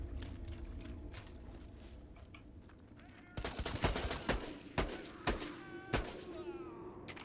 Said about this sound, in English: Look how fast they fire those sniper rifles, man